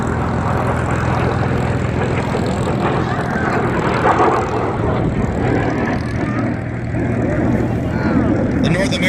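An F-86F Sabre jet fighter flies at the Chino air show, a steady broad roar of engine noise sustained throughout while an announcer talks over it.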